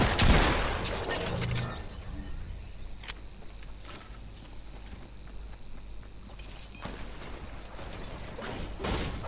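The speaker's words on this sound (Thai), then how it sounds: "เจอใครกูใช้ปืนพกยิงใส่เขา" Pistol gunfire in the video game Fortnite, with sharp single shots spaced out over steady game background noise, including a burst at the start and more shots later, mid-distance and fairly loud, with no speech.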